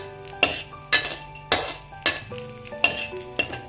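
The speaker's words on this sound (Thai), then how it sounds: "ขอทอดกุ้งก่อน" Shrimp sizzle in a pan as a utensil scrapes and stirs in regular strokes, about once every half second, with metallic clinks.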